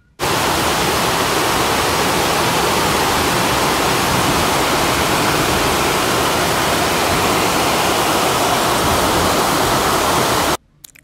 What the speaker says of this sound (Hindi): तो मैं भी अब आपको आवाज़ सुनाती हूँ कि कितनी तेज़ बारिश हुई है।